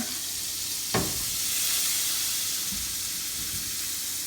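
Organic butter and olive oil sizzle steadily in a pan with a broad hiss, a sharp clink near the start and a few faint knocks later, no voices.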